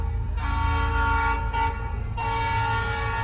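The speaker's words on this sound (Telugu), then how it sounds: "అప్పుడే నేను వెళ్లాల్సిన ట్రైన్ వచ్చింది" A train horn sounds at a railway station as the train arrives, a loud sustained tonal blast that breaks off briefly midway and then resumes.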